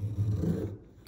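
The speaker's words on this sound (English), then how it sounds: "we're going to do a little wood shaving test. There it goes." A Benchmade Mini Adamas knife shaves a thin curl from a piece of wood, making one short, close rasping scrape that fades, followed by a faint click.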